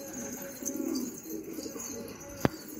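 Pigeons returning to the loft give soft, low cooing calls close by, rising and falling over a quiet background, followed by a single sharp click.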